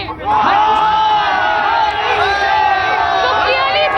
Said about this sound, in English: these supporters of Narendra Modi, they are here to cheer for Narendra Modi